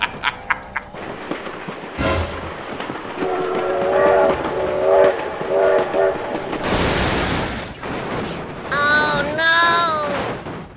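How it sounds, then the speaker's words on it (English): Train horn blasts from a virtual train in BeamNG.drive, with rumbling rail noise and clattering under loud, panicked shouting; the sustained horn tones come back in bursts, and a final loud chord comes near the end. "Oh my god, train!"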